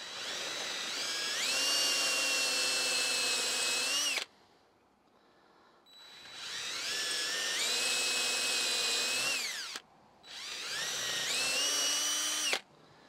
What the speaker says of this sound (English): I got a shorter drill bit here, a little stockier one. I'm going to take it out to the next size with it.